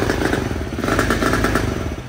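A Polaris RZR 170 engine runs on choke, a steady, loud, close motor chug with a slightly uneven, rattly idle throughout and no one talking.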